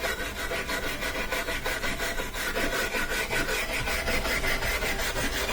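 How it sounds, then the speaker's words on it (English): A wire brush scrubs rapidly back and forth over an old dryer front bearing to strip leftover felt, producing a steady, close, rhythmic rasping that continues without pause. "You could also use a wire brush."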